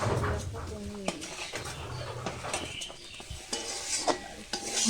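Fried paneer and vegetables stirred in a pan for a fried rice dish: a spoon scrapes and clinks against the metal in uneven strokes over a soft sizzle, with a faint voice in the background.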